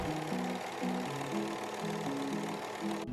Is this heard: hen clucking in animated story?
no